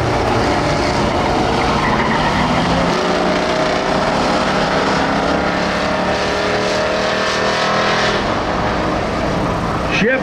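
Jr. Crown Vic race cars roaring around a short oval track in a feature race, running three wide with loud, continuous engine drone and shifting pitch, heard close over crowd and announcer-like noise throughout.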